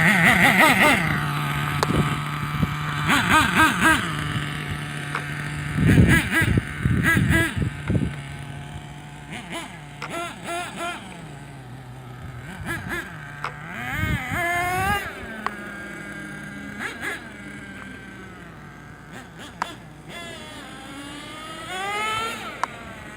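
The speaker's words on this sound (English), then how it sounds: "this is an Exceed 1/8 Madstorm engine on a Team Associated MGT" A nitro engine, Exceed 1/8 Madstorm .28, runs on a Team Associated MGT 4.6 RC monster truck, revving in bursts and rising whines over a steady idle, close by and fairly loud.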